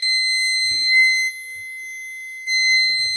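A car parking sensor gives a shrill, high-pitched electronic warning tone, steady and close by, dipping briefly in level midway before returning.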